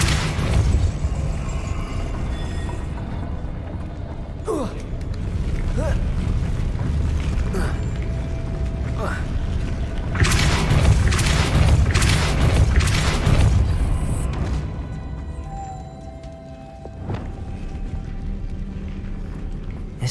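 Depulso spell cast in the video game Hogwarts Legacy, a series of booming blasts and whooshing impacts over a continuous rumbling game backdrop, with sharp bursts clustering in the middle and speech-like murmurs mixed in.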